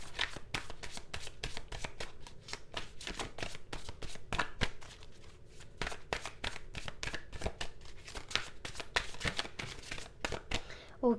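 A deck of tarot cards is shuffled by hand, giving a long run of quick, crisp riffling slaps and snaps, close and steady for about eleven seconds at a soft level.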